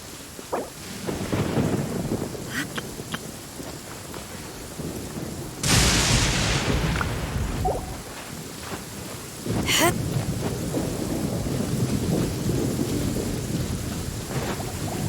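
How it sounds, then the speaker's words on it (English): Thunder rumbles through steady rain in a video game: one loud, sharp crack near the middle, then a long rolling rumble, with a second crack shortly after, all over continuous rainfall. "The thunder rumbles."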